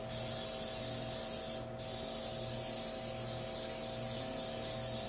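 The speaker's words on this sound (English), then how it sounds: "Now, I'm going to spray my pan down." A steady hiss of aerosol cooking spray coating a pan runs almost continuously, with one brief pause partway through, close up over a faint background hum.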